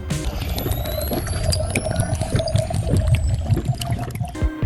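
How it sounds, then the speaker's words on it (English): Vegetable oil poured into a container already holding a quarter ounce of water, heard as a close, continuous gurgling pour with bubbly glugs and rising tones as the vessel fills. "And now we're going to fill the rest up with our vegetable oil."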